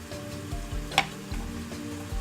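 Potatoes frying in a somewhat worn pan while being stirred for a breakfast of ham, mushroom and cheese omelette with potatoes, giving a steady close sizzle with scraping stir sounds and a brief louder clatter near the middle.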